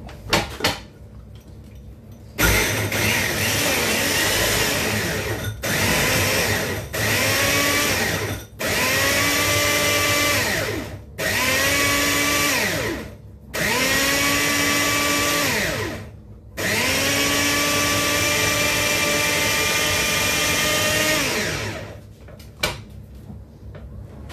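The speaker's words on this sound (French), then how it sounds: "je vais tout mixer maintenant." A kitchen blender whirs an Oreo cheesecake mixture in a series of loud, close bursts, its motor pitch rising as each pulse spins up and dropping away between them, ending with one longer run.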